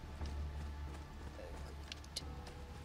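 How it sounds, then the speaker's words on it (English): Horse hooves clip-clop steadily across the ground in Assassin's Creed II, a soft, fairly quiet rhythmic patter with no voices over it. "Hello, horse."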